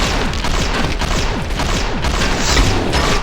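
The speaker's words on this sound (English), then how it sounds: "The weapon sound effects have all been overhauled as well for a more exciting soundscape and fresher tone" Overhauled weapon sound effects in a modded Fallout 3, loud dense bursts of gunfire with booming impacts and crashing debris filling the whole stretch with no pauses.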